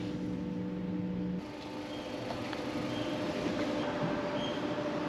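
An NS (Dutch railways) train pulls away from Castricum station, a steady loud rumble of rolling wheels and motors with a brief tonal whine at the start, heard close on the platform without talk.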